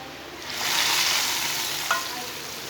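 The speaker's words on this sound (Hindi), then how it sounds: "तड़के को दाल में डाल लेंगे।" A hot tadka of browned onion in oil is poured into black masoor lentil dal and bursts into a loud, steady sizzle that swells quickly, then slowly fades, with a short spatter near the end. No voices.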